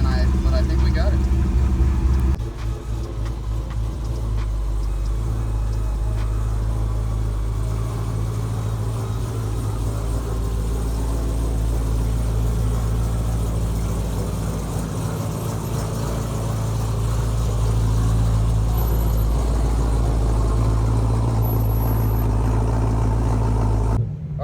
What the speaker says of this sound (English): so I am driving the car obviously.